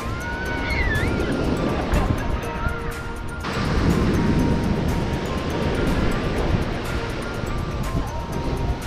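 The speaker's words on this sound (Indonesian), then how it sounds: "Ayo kita tunggu ombak." Ocean waves wash onto a beach in a loud, continuous roar, with a surge swelling midway and a few faint high voices in the background.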